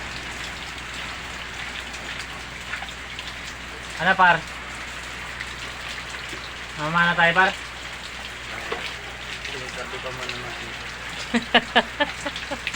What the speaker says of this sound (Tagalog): Bubagyo ngayon, no? Lakas ng ulan.